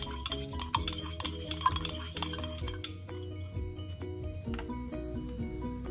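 A stirrer clinks against a glass beaker while mixing the water phase of a homemade rice and Job's tears repair cream, giving quiet rhythmic taps and scrapes that are brighter and sharper at the start.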